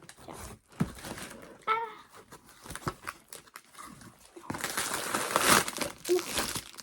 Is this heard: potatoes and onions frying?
no